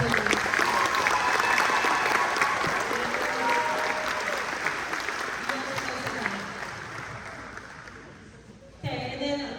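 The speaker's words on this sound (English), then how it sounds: "if we can give these seniors one big round of applause" A high school sports awards crowd gives senior athletes a long round of applause, a broad, sustained clapping that slowly fades over about nine seconds before a brief shift in the room sound at the end.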